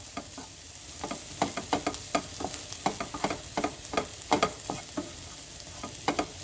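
A pot of curry vegetable quinoa cooks on the stove, giving a soft bubbling sizzle punctuated by repeated close scraping and stirring sounds in an irregular rhythm.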